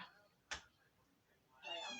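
A cat gives a faint, short meow near the end after a sharp knock, in a quiet indoor room at home.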